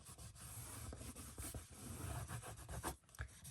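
Tape is burnished down onto paper for a document folio, a quiet dry rubbing and scraping in short uneven strokes close to the mic, with no talk.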